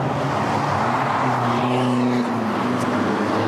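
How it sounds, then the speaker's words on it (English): Isuzu D-Max and V8 utes spin in an arena stunt show at a royal show, their engines roaring loud and steady with a wavering pitch that holds for the whole stretch. "We'll spin all 4 cars one more time, right into the corner in front of the major grandstand"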